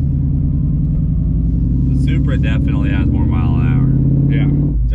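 A 1,100-horsepower truck cruises down a street, its engine giving a steady, heavy low rumble from inside the cab while passengers talk and react over it.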